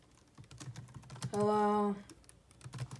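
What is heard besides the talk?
typing on a computer keyboard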